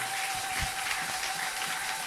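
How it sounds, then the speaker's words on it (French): A church congregation breaks into applause for the Lord at a Sunday service, a steady dense clapping wash filling the room with no speech over it. "Est-ce qu'on peut acclamer pour le Seigneur?"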